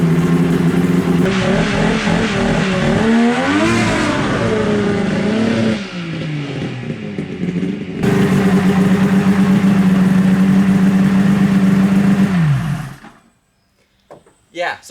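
A Mini Baja Bug engine revs hard, with its pitch rising and wavering as it bogs and stumbles. It climbs again into a loud sustained roar, then cuts out abruptly near the end.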